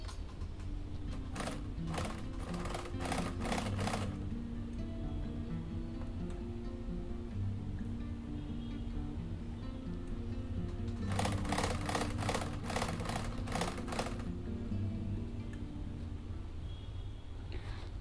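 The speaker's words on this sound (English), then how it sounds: "So now we need to make a top stitch all around over here." A sewing machine runs a straight top stitch around the edge of a fabric sunglasses pouch, sounding as two bursts of rapid, steady mechanical clatter separated by a quieter stretch of low hum.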